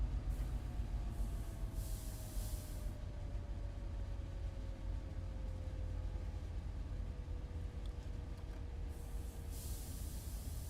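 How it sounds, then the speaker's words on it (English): F59PHR locomotive in Train Sim World 5 rumbling steadily with a low engine drone and a slowly falling tone, continuous and fairly close throughout, no talking. "The train sounds are depressing"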